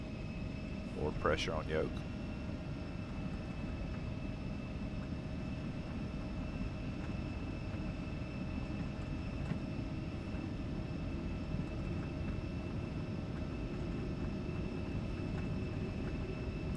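Embraer E175 jet engines at takeoff thrust in X-Plane 12, a steady loud roar with a faint whine, plus a brief rising chirp early on; a voice speaks briefly partway through.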